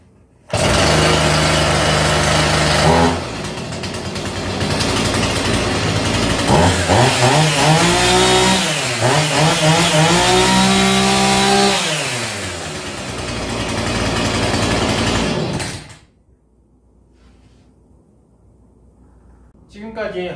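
A Husqvarna chainsaw engine roars loudly, revving up and down for several seconds before cutting out, leaving quiet with a faint restart at the end.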